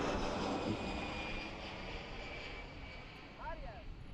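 Passenger jet on approach passing overhead at Washington Reagan National Airport, a broad, steady roar that slowly fades over a few seconds.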